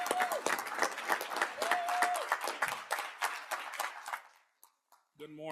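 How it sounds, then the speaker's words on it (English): A round of applause for Sergeant Harden at a board of governors meeting, a moderate burst of clapping that fades out after about four seconds, with electronic tones near the end. "We're going to give you a round of applause as you let us know what's going on with the road."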